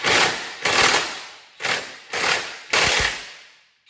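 Ratchet loosening a subframe bolt on a MK6 Jetta GLI: five rapid, close, loud bursts of clicking, each a short rattling run of pawl clicks separated by brief pauses.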